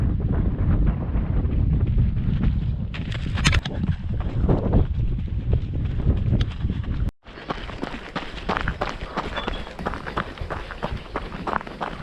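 Strong wind buffets the microphone during an outdoor run on a sunny, warm day, a loud continuous roar with gusty surges and a brief dropout partway through, alone with no voices.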